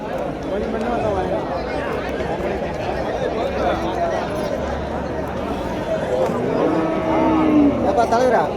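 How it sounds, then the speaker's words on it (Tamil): Jersey and native cattle at a cattle market in Uthangarai, with occasional moos and shuffling within a dense, continuous crowd din of overlapping voices and market chatter. "இந்த ஜெர்சி மாடுங்க இருக்கிற ஏரியா இந்த நாட்டு மாடும் கலந்து கட்டி வச்சுருப்பாங்க"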